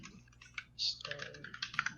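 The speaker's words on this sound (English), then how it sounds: "I'm typing in the chat because my." Fingers typing on a computer keyboard to write a chat message during an online meetup, a quick irregular run of close, light key clicks with one short louder tap.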